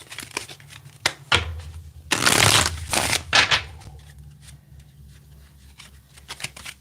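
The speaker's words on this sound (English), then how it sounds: "I'm going to give it 3 shuffles." Cards riffle-shuffled in a few quick bursts, close and crisp, with short pauses and light handling sounds between them.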